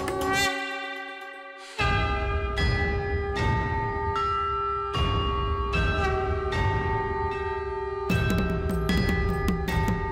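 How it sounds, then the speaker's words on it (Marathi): Temple bells ring out with a sustained conch shell drone, layered metallic strikes recurring steadily and loudly throughout, with no talking. "तुला आवाज ऐकू येतोय? शंखाचा आणि घंटानाद।"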